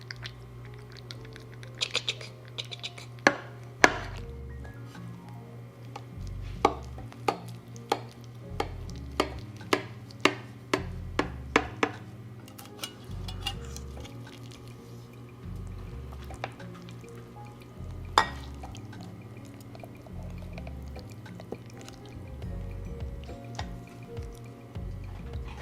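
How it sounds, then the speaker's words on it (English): A knife cuts through a layered poblano chiles rellenos casserole with melty cheese. Soft squishy, wet sounds of sauce oozing come with scattered light clicks as the blade and utensils tap the dish, close and quiet. "you want to use a knife to cut through this, okay? I can hear that sauce oozing."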